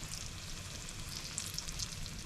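Eggplant slices fry in canola oil with a close, continuous crackling sizzle and scattered sharper pops, heard alone without talk.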